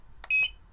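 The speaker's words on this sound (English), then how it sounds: "See, to hear the beep?" A drone's electronic beeper giving one short, bright, high-pitched beep, close and clear against a quiet background.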